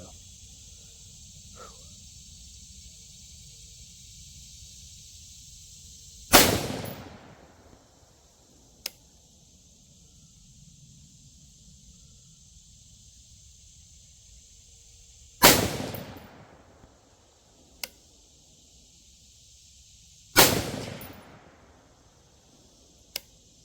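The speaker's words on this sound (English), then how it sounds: "getting a little bit used to shooting groups at 110 yards off of a 10 power" SPR-style rifle fired at 110 yards while shooting groups, three sharp loud gunshots spaced several seconds apart, each with a short decaying echo, and faint clicks between shots over a quiet outdoor background.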